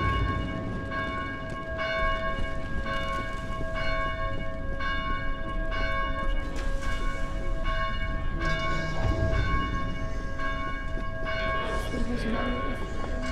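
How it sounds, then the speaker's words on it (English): Church bells in the Dead Island video game ring steadily and loudly with sustained overlapping tones, layered over a dense rumbling background throughout. "Please help us silence these bells."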